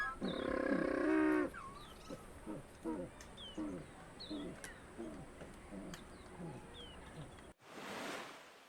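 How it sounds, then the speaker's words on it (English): A colony of African penguins gives repeated harsh, honking, donkey-like brays, each call rising and falling in a rhythmic series, with a loud burst at the start and a windy rush at the end. "They do emit a unique sound similar to a donkey braying, and thus their name."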